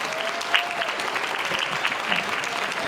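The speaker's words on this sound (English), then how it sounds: "So give yourselves a round of applause." A crowd claps at a women's awards event in Sacramento, California, a short burst of steady, dense applause with scattered louder claps and faint voices underneath.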